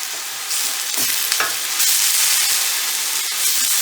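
A small clove of chopped garlic sizzles in a pan as a risotto with scallops gets underway. The hissing frying is steady and close, broken by a few scraping stirs, and no one speaks.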